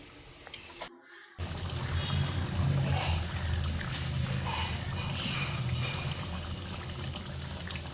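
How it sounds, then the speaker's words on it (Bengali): Curry gravy with potatoes and soya chunks simmering in a pan, a close, steady bubbling and soft hiss that carries on throughout after a brief dropout near the start. "দেখুন ঝোল প্রায় ফুটে এসেছে।"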